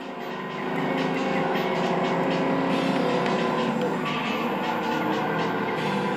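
A race car in the video game Ford Racing 2 drives with a loud, continuous engine roar that builds in the first second and then holds steady, with faint tire noise layered over it.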